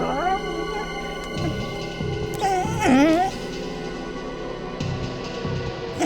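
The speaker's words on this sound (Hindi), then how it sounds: "ये कुत्ता रो रहा है।" A dog whimpers and cries in a TV crime drama scene, giving a few thin, wavering whines over a steady droning music bed.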